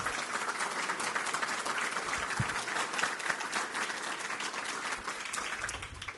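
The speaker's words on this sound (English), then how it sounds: "let's give the staff a round of applause for all of the hard work" An audience at a US panel hearing on artificial intelligence applauds the commission staff, a sustained, even patter of many hands clapping heard from a moderate distance.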